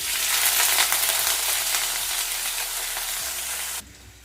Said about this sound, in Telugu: ఈ ఉల్లిపాయలను కొద్దిసేపు మనం వేయించుకుందాము